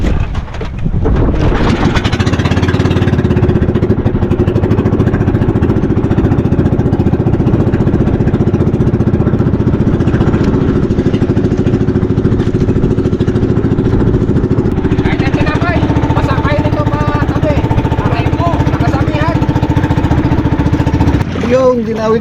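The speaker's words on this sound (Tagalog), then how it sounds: "Ay, kumanda na makina." A fishing boat's engine runs steadily throughout, a loud, constant droning hum close to the microphone that shifts slightly in tone partway through, with faint voices beneath it.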